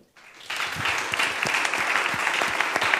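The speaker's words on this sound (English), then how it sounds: "big applause for all of them" Audience applause for a panel at a live Block&Wine event, starting abruptly and holding as a steady, moderately loud wash of many hands clapping.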